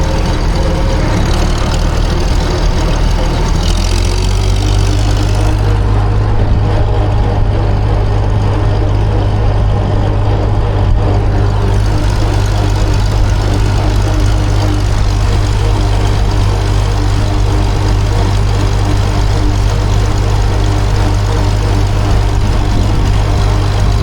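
Tractors idle together at a rest stop during a steam threshers show, a steady, loud, low engine drone that runs unbroken throughout with a few shifts in tone and no talking.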